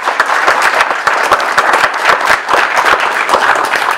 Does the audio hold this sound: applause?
yes